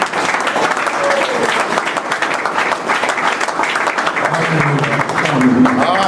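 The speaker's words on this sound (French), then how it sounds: "nous allons acclamer pour notre Seigneur" A church congregation applauding at an evangelism service, dense sustained clapping filling the room, loud and continuous, with voices faintly mixed in.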